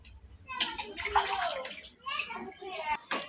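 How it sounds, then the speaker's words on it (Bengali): Freshly cut fish is rinsed by hand in a vessel of water, with sloshing and splashing that comes and goes under nearby talking voices. "এখন ধুয়ে নিতেছে মাছটি ভালো থেকে"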